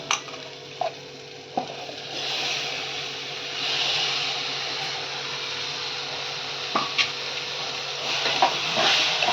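Chopped, washed shark fish goes into a hot kadhai for a Malvani dry preparation, with a steady sizzling hiss and a few sharp clinks and scrapes of a spatula against the pan.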